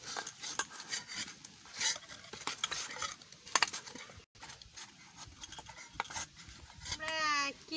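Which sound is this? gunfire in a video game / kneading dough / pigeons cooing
kneading dough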